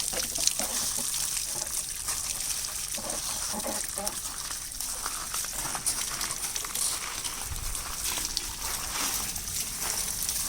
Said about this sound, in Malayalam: നന്നായിട്ട് ആ കാമ്പ് കാര്യങ്ങളൊക്കെ ഒന്ന് കഴുകി കളയാം